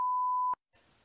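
An EMF meter alarm gives a single steady electronic beep lasting about half a second, clear and alone, followed by silence and faint background hiss.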